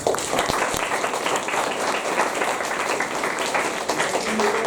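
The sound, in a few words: clapping for Arunima Sinha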